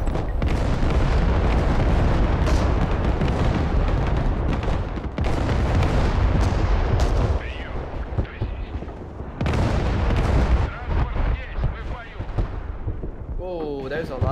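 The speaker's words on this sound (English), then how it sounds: "Artillery is over here." Artillery fire in the Broken Arrow strategy game, a dense run of heavy booms and rumbling blasts that fills the clip, with a voice talking over the barrage.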